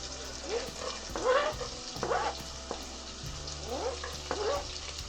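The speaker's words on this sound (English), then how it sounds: "In a large pot, over medium heat, add in some butter." Butter sizzling in a large pot over medium heat while making chicken sopas, a soft continuous crackle and hiss with a few light stirring scrapes and clicks.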